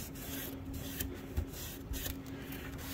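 A sprayed cleaning rag is wiped gently across a surface, giving a soft, steady rubbing hiss with a few light scuffs, faint and close, heard alone.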